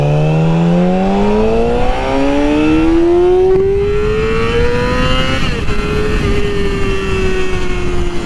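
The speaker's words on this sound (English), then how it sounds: "I've always been fascinated with the sound of inline fours" A Yamaha R6 inline-four sport bike engine pulls hard through the gears, its high-pitched wail climbing steadily, dropping briefly at a shift, then rising again, loud and continuous with no talking.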